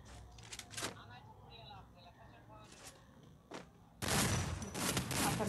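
Gunfire in a shooting video game: a few isolated sharp shots early on, then a loud sustained burst of rapid fire in the last second and a half, with someone talking and game sounds in the background.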